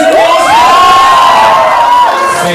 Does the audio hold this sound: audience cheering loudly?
yes